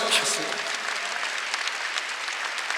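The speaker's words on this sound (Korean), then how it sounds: "여러분이 복의 근원이 될 걸 믿으시면 박수 하나 더 주세요." A church congregation at a Sunday service claps in dense, sustained applause, with a brief voice or cheer at the very start and steady clapping after.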